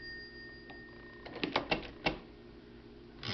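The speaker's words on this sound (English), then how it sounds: "There's your tabulator key." An antique Oliver typewriter's tabulator key pressed to advance the carriage, producing a quick cluster of sharp mechanical clicks and clacks in a quiet room, then a brief rattle at the end.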